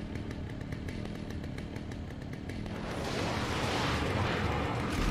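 A chainsaw-wielding enemy in Alan Wake roars nearby, a harsh buzzing engine drone that swells louder and rougher midway through.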